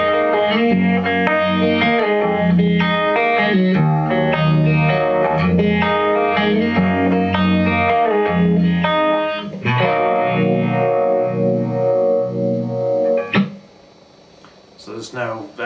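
Electric guitar played through a live rig with a vibe modulation effect, slight detune and reverb, no echo: a continuous run of sustained, wavering chords and notes, loud and close throughout, easing off near the end.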